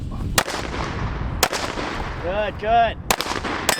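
Sharp gunshots crack out during a shooting drill, four spaced reports each standing alone, with a brief rising whistle-like tone between the third and fourth and a voice speaking briefly.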